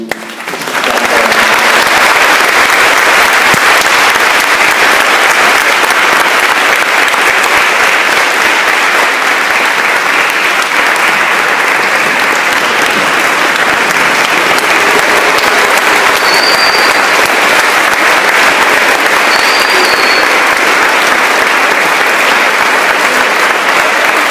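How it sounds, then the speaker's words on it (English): Big, sustained round of applause from an audience at a Veterans Day presentation, loud and steady for over twenty seconds with no talk over it. "We could give a big round of applause to"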